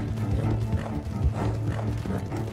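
Horse in Red Dead Redemption 2 pushed to a full gallop, rapid rhythmic hoofbeats pounding steadily and close throughout, with a low rumble beneath.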